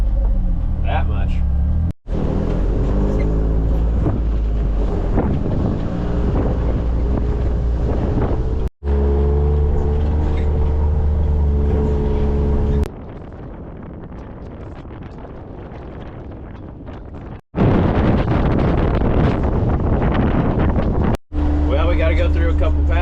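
Strong 50 mph wind roars and buffets against the microphone while moving cows through the Nebraska Sandhills, a loud continuous rush broken by a few brief dropouts, with a vehicle engine drone underneath.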